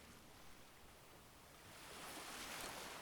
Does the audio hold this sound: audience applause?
no